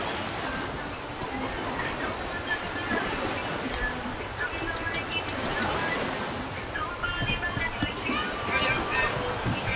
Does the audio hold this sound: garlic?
no